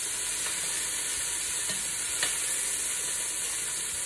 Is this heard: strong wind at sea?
no